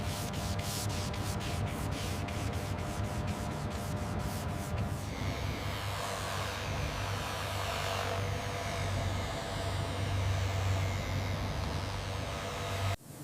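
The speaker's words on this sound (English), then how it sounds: "We start with the 2000 grit and maintain that uniform scratch pattern." Car body panel on a Range Rover Classic under restoration is sanded by hand with 2000 grit paper: fast rhythmic rubbing strokes at first, then continuous close scratchy sanding that runs to an abrupt stop.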